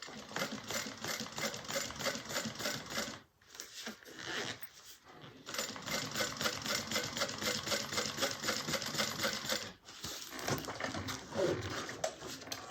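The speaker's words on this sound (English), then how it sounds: "drop my needle, keep my tails long, and then I'm going to stitch across" Sewing machine stitching across fabric in a fast, steady patter, pausing briefly twice before resuming, close and fairly quiet.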